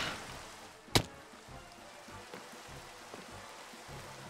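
Rain falls in the video game Minecraft as a soft, steady hiss, with one sharp click near the start and no voices over it.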